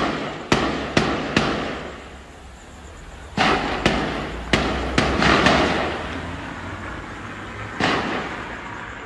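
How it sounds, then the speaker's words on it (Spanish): Gunshots ring out behind a house during a shootout in Ciudad 2000, San Luis Potosí: sharp outdoor reports in uneven bursts, a quick group of three, then a cluster of five or six, then a final lone shot, all echoing against low background noise. "se están balaceando bien machín"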